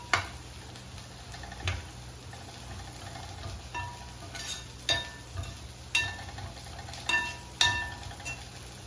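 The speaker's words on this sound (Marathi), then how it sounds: "आता मसाल्याला चांगलं परतून घ्यायचंय." Malvani masala being sautéed in a pan for shark fish curry, with faint intermittent ticks and scrapes of a spoon against the pan over a quiet sizzling background.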